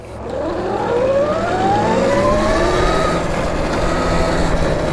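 A Velimotor VMX12 80V electric dirt bike being ridden, its motor and chain letting out a loud, steady whine whose pitch climbs and glides through gears, close and continuous over a rushing background.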